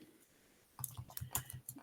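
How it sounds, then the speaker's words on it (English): A computer keyboard is typed on in quick, uneven bursts of close clicking keystrokes after a brief quiet start, the taps clustering together and then thinning out. "I can't even type properly quickly"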